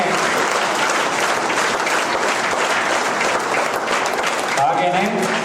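Sustained applause from a theatre audience after a stage play performance, dense, loud and steady throughout, with a voice briefly rising above the clapping near the end.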